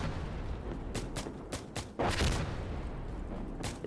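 Gunfire and explosions in the war shooter game Insurgency Sandstorm: a rapid string of sharp shots, then a heavy louder blast near the middle and another crack near the end, over a constant rumbling battlefield background.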